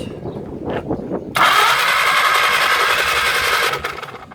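A 1937 Willys flathead engine, left sitting in the woods for over 25 years, cranks over with the starter for a couple of seconds, a steady whirring churn that cuts off abruptly, with wind noise around it.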